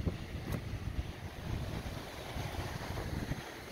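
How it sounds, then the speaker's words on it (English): Steady wind buffets the microphone, a constant low rumble with gusty bursts and a brief hiss near the start. "Gonna be really windy today"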